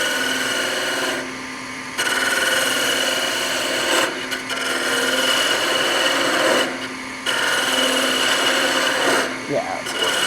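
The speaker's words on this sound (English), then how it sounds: "I'm going to go ahead and start here and just very carefully kind of just anchor and bevel and cut into this surface" A lathe tool anchoring on its bevel and cutting into spinning wood while turning a honey dipper, giving a steady close rasping scrape that runs nearly continuously with a few short pauses.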